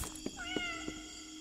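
Cat meowing in the video game Indigo Park, a few short rising meows over a steady tonal game hum, close and moderately loud with no talking.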